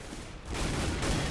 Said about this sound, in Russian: Каджум буквально наказывает и прострелом забирает в голову NBK последней пулей